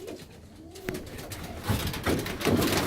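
Racing pigeons in a young-bird loft coo steadily at close range, several soft overlapping calls rising in level over a few seconds with no talk.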